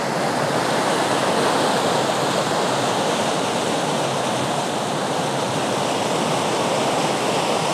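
A river rushes steadily after a sudden rise in water level, flowing over and around rocks in a loud, continuous broadband roar close by, with no talking.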